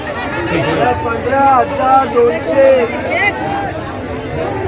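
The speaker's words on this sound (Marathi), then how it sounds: "पूर्ण बीचच्या साईडला हा बघा मार्केट आहे गर्दी बघा केवढी आहे" Crowd chatter at the Harnai beach fish auction market, a dense babble of many voices shouting and talking at once in a busy open-air setting, steady and close throughout.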